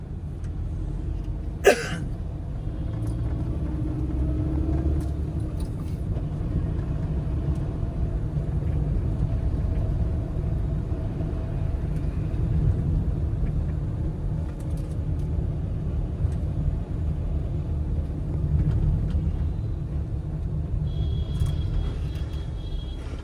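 Car engine in city traffic, a steady low rumble with a sharp click near the start, as a driver presses the clutch and shifts from third down to second gear.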